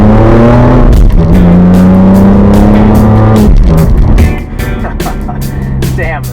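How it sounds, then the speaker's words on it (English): A 2004 BMW M3 exhaust revs hard and loud, its harmonic tone climbing and falling through several sweeping revs before easing to a lower, rougher idle-like drone near the end, with faint sounds overlapping the engine. "The car's exhaust sounds like a white rhino fighting a chainsaw"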